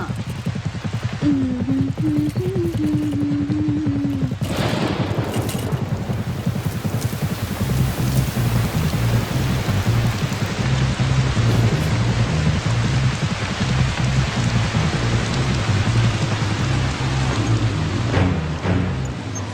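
Steady rain falls throughout, a dense, even wash with a low rumble underneath, heavy and close. A brief tonal sound rises early on, and no one talks.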